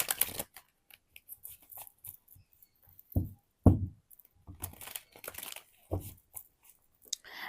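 Tarot cards shuffled and drawn during a reading: scattered soft papery rustles and crinkles, with a few louder, sharper card snaps near the middle, close and quiet with no talking.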